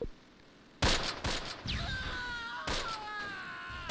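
Gunfire in the World War II tactical video game Close Combat: Panthers in the Fog: loud, sharp bursts of shots and fusillades sound in irregular clusters over a battle backdrop, with ringing tonal effects trailing after.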